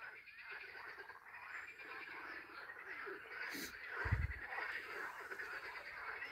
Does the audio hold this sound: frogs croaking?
yes